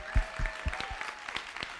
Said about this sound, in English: Can we have one more round of applause for the chief